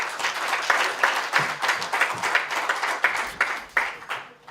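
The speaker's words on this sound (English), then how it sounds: "I think she deserves another big hand of applause." Audience at a launch event gives a round of steady clapping that fills the room, moderately loud and continuous, with no speech over it.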